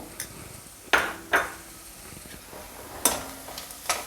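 Chickpea usal is stirred in a pan with a spoon, giving a few sharp scrapes and clinks against the metal over a faint background sizzle, with no talking.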